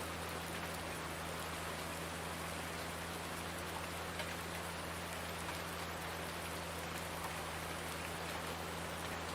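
Steady rain falls on a rural Indiana farm in Farming Simulator 19. Dense, even hiss of drops continues unbroken at the same level for the whole stretch, with a low constant hum underneath.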